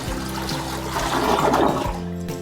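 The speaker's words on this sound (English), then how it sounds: "simply take a bucket of water, pour it into the toilet" Water from a bucket gushes into a toilet bowl with a rushing, flushing swirl, close and fairly loud, tapering off as it drains.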